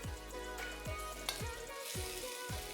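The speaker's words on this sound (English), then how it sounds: "Put in a little more oil and add in your ginger slices and roughly chopped up garlic." Ginger slices and roughly chopped garlic frying in a little oil in a wok after chicken is removed, a faint steady sizzle with regular low thumps from stirring.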